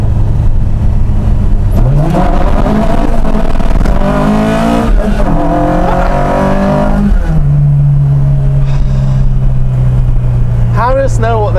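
Harris-engined Ford Mk2 Escort road car pulling hard through the gears, loud engine note rising and dropping at each shift, close and continuous with people talking over it.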